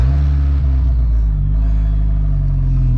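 A VW Golf race car engine with no exhaust fitted idles loud and raw, with a heavy, steady low rumble and a slight rise in revs that carries through the whole stretch without a break.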